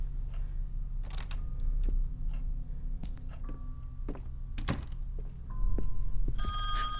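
In the horror video game Song of Horror, a telephone rings in separate bursts of bell tones, with thuds and clicks from the game between them and a loud, harsh ring at the end.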